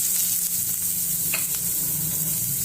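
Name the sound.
onions frying in oil with cumin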